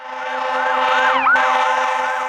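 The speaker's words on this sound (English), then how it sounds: "sirens blared throughout the Beacon Hills area" An emergency vehicle siren blares during a wildfire evacuation in the Beacon Hills area, wailing in loud, steady rising-and-falling sweeps with a brief pitch shift midway, close and with no talk.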